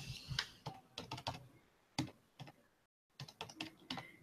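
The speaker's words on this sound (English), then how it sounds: "So I type that into my calculator." Numbers being keyed into a calculator: a quick, uneven series of sharp button taps in bursts with a brief pause midway, close and fairly quiet, no talking.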